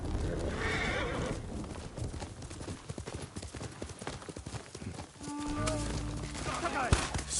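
Horse in the video game Ghost of Tsushima, hooves clip-clopping steadily on the ground followed by a loud neigh and whinny near the end, with a voice speaking over the galloping.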